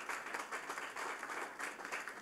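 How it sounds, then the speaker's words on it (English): Applause from an audience at a startup talk, dense steady clapping that fills the whole short stretch at a moderate, even level with no speech over it. "So just big round of applause to those guys for supporting the ecosystem."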